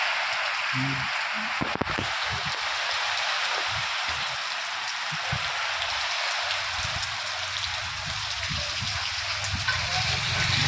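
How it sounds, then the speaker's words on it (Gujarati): Rain falling steadily in Pipalva village, a broad even hiss of drops on surfaces that continues throughout, with a few low knocks and faint background sounds beneath. "સરસ મજાનો વરસાદ ચાલુ થઈ ગયો છે"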